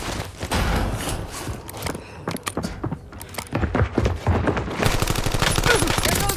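Rapid bursts of gunfire in a Warzone match crack and rattle in clusters, loud and close at times, with thuds and mechanical clatter between volleys and heavier sustained fire toward the end.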